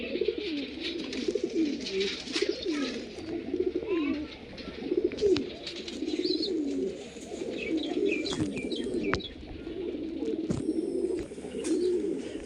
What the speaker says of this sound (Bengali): তো দুটোই মাদা পায়রা আছে